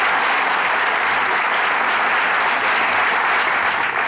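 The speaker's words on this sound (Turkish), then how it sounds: "Alkışlarınızı." Thick, loud studio audience applause at the Güldür Güldür Show comedy taping runs continuously and evenly throughout.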